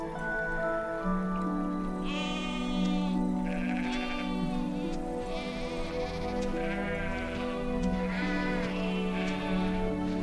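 Sheep bleating in a pastoral setting, several wavering calls in succession, some overlapping, close and clear over a soft steady patter like light rain.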